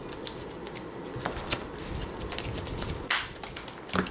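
A trading card deck for the Cardfight!! Vanguard card game is cut and riffle-shuffled, with soft papery flutters and brief snaps scattered across a few seconds, close and fairly quiet against a low room hum.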